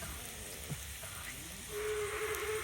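Onions sizzling and frying in a pan for a festive curry, a soft steady hiss that swells louder partway through, with a faint tone running beneath it.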